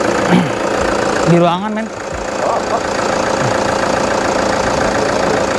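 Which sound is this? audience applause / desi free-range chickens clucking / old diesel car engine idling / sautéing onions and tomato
old diesel car engine idling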